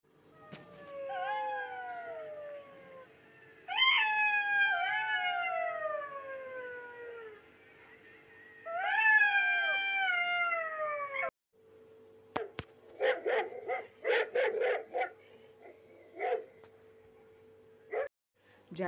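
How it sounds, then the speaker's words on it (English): Jackals howling in long rising and falling wails that come in three drawn-out bouts, followed by a burst of short, yappy barks and calls, fairly close and clear against a quiet background. "Jackals makes a sound of howling and barking like dogs and wolves."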